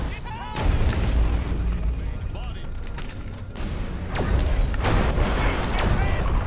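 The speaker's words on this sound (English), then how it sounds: "It's a pretty devastating explosion if you ask me." A devastating oil tanker explosion in the video game Destroy All Humans!, heard as a loud rumbling boom with crackling debris and repeated blasts layered over a continuous din.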